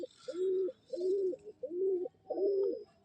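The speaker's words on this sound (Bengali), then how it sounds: "এটা লাল ফুল টাইপের পায়রাটা" Giribaz pigeons at a pigeon market coo in four close, rhythmic rounds, each a soft throaty burble lasting about half a second, with a few higher chirps over the top, near and clear with no talk.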